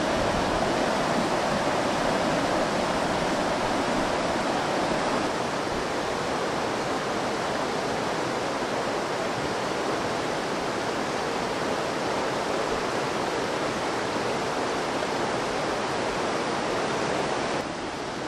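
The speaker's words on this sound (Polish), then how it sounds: "biesiadować przy dźwiękach tego strumienia" Steady rushing of flowing water, a stream running loudly and continuously with no breaks, dense broadband roar close by.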